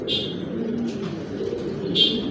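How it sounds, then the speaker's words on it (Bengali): Soft coos and brief chirps come from pigeons, including a stone-eyed male, kept for sale, heard faintly over a steady low background hum with no talking. "পাথর চোখের কবুতর"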